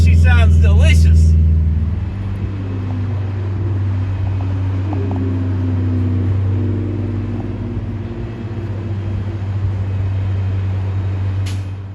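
A first-generation Acura CL with a turbocharged K24 engine running, a loud deep steady idle rumble that swells briefly at the start, then settles into a constant drone.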